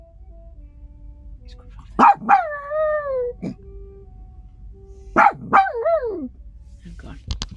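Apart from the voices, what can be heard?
chihuahua singing along to jazz saxophone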